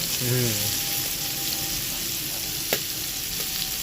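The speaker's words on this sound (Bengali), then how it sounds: "দেখো এপিট ওপিট করে একদম পুরোপুরি শেক নিয়েছি, মানে ভেজে নিয়েছি।" Paneer pieces sizzle and crackle while frying on a hot tawa, a steady broadband hiss with a brief voice at the start and a single sharp clink near the end.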